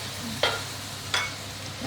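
Cabbage and shiitake mushrooms stir-frying in a wok, a soft sizzle under two quick scraping tosses of the spatula.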